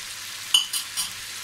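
Meat frying in a kazan for Kazakh plov gives off a soft, short sizzle with a few quick crackling pops, quiet and heard alone.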